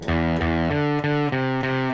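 Distorted electric guitar plays the repeating riff from Marilyn Manson's Kill4Me, loud chugging chords changing every third of a second in a steady rhythm, with no voices.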